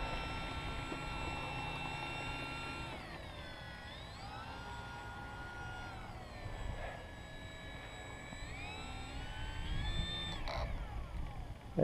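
A Durafly Tundra radio-controlled model airplane flies overhead, its high electric motor whine rising and falling in pitch as it passes and turns at a distance, with a light breeze in the background.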